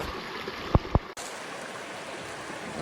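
A mountain creek on the Upper Lost Cove trail, swollen after Hurricane Helene, rushes with a steady broadband wash of flowing water, with a couple of brief knocks near the start.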